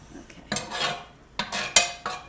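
A metal spoon scrapes and clinks against a frying pan, several short close scraping strokes in quick succession, with no voices.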